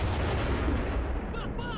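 A 122mm cannon on an IS-2 tank fires in the video game Enlisted, set in Berlin, as a loud, dense booming blast with a rolling echo tail, close and filling the short moment.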